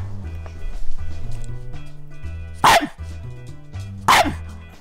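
A young dog barks twice, sharp and close, with a pause between, over a steady low rhythmic background of music.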